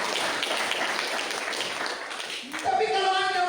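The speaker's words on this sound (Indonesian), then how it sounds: "Beri tepuk tangan terbaik buat." Church congregation applauding during a sermon, a dense wash of many hands clapping steadily throughout, briefly easing before swelling again as a voice emerges over it near the end.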